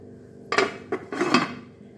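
A metal lid is set onto a cooking pot of ridge gourd dal, a few close clanks and rattles in quick succession over about a second, then quiet.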